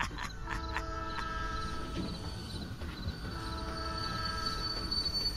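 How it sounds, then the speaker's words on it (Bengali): A train rolls to a halt on the rails, its horn sounding in short repeated blasts at the start and again later over the steady rumble and clatter of the carriages, heard at moderate distance. "হঠাৎ রেল লাইনের সিগন্যাল না পাওয়ায় ট্রেনটি থেমে গেল হর্ন দিতে দিতে"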